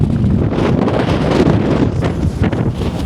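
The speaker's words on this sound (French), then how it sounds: "Il y a un vent de fou." Strong gusty wind buffets the microphone outdoors in Sydney, Australia, a loud continuous rumbling roar with no pause across the whole stretch.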